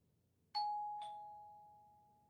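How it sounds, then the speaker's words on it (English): A two-tone ding-dong doorbell chimes in a video game, bright and clean, the second note ringing out and fading slowly over a quiet low hum. "Ding dong. It's real, whoever is ringing is very impatient."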